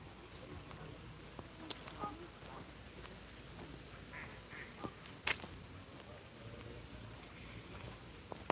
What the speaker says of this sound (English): You can hear the birds on the river